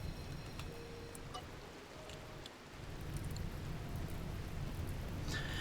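Steady rain in a video game falls as an even hiss, with occasional small ticks and clicks on top and a low rumble beneath that swells slightly toward the end.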